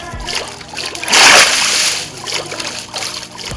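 A player character dives into a swimming pool in a video game, making one loud, bright splash burst about a second long, with softer water sloshing and lapping afterward.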